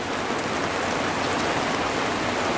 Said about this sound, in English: Nice steady rain, been raining almost all night.